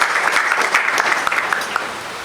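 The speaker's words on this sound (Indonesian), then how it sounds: "Tepuk tangan untuk narasumber kita." At a school event, an audience gives the guest speakers a loud, close round of applause, a dense patter of many hands with a few sharper individual claps standing out.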